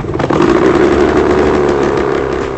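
An autogyro engine runs steadily at a loud, constant drone with a slight rumbling texture, alone with no voices.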